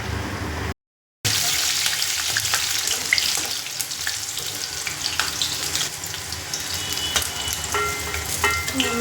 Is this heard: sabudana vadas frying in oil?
yes